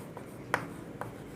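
Chalk or marker writing math on a classroom board, a few faint, short taps and strokes against quiet room background.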